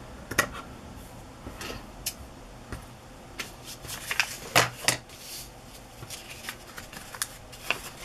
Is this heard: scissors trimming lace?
yes